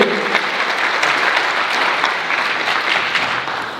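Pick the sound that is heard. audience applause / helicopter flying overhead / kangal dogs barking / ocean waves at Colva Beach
audience applause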